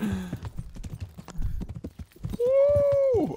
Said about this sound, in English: Oh, this is my horse!